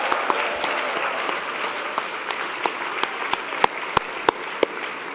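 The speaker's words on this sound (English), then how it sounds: "we'd like to show our gratitude with a round of applause for the Washington Hilton staff" Audience applause in a Washington Hilton conference hall for the hotel staff: a steady wash of clapping from a large crowd, with sharper individual claps standing out near the end.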